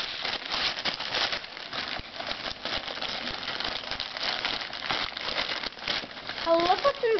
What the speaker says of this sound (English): Just rip it, Kai.